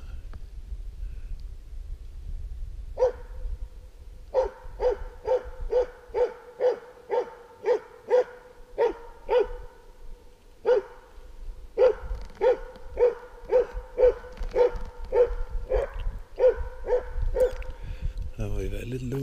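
A six-month-old dog barks at a moose outdoors, a long series of evenly spaced, moderately distant barks in two bursts, with a quiet low background rumble.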